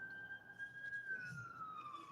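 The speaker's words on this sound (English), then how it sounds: "There's sirens all around me right now. And I don't know. It's an ambulance." An ambulance siren wails nearby on a road near a hospital, a single sustained tone slowly falling in pitch, fairly faint over low background rumble.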